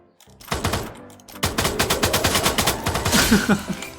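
Rapid machine-gun fire in the shooting game Free Fire, with an M60 and M79 in play. Two dense, loud bursts of automatic shots crackle close up with almost no talk.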